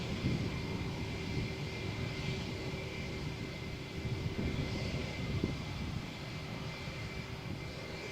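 A British Airways Euroflyer jet roars steadily at Malaga Airport on a stormy morning, a broad, fairly distant engine rumble holding even from start to finish with no voices over it.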